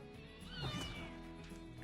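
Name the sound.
cat meowing in Superman cartoon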